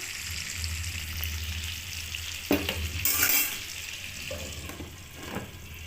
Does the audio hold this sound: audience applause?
no